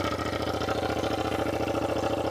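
A Yamaha MT07 motorcycle with straight pipes idles loud and close, a rapid, even, throbbing twin-cylinder pulse with a raw, harsh exhaust bark and no voices.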